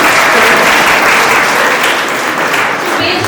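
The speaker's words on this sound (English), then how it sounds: "So big clap for yourself to standing as a profession." Nursing students at an International Nurses Day event clap for themselves, a loud, close, dense burst of group applause that stays steady for the whole stretch.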